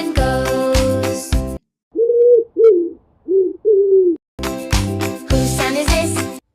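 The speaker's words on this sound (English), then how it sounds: "This is a pigeon." A pigeon gives a few soft, rounded coos in a brief series, set between loud bursts of music before and after.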